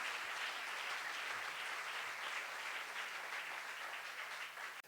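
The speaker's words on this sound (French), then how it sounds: "On peut l'applaudir" Audience applause at a participatory democracy forum in Bayonne, a broad, steady crackle of many hands clapping at a moderate distance, continuing evenly for several seconds before cutting off abruptly.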